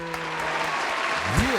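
A short burst of applause in a podcast studio, a brief patter of clapping with some sliding background tones and voices mixed in.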